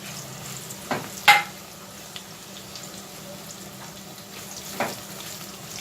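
Mushrooms fry in two tablespoons of hot oil, giving a low, steady sizzle with a few sharp clinks from a utensil near the start and again toward the end. No one speaks.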